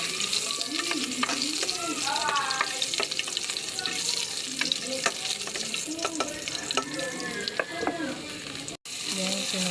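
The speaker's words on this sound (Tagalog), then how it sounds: "Igisa muna ako dyan ng luya" Ginger sizzling and frying in a pan for Filipino chicken tinola, steady loud sizzle with repeated scraping and stirring strokes throughout, a brief break near the end.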